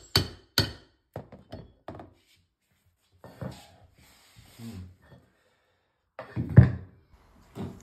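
Laminate flooring strips knocked across into place with a tapping tool: a series of sharp wooden thunks, several in quick succession, then a few spaced heavier knocks, close and fairly loud.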